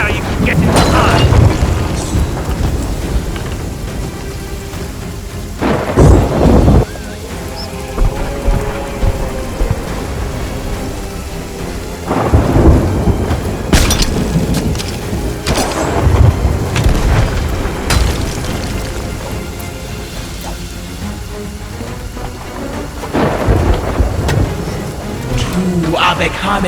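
Lightning cracks against a spire in the video game Sea of Thieves, with repeated heavy thunder booms rolling over steady loud rain, and a voice speaking at intervals throughout.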